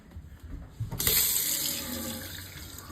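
Water from a kitchen tap starts abruptly after a second of quiet and then runs steadily as a close, hissing stream until the end.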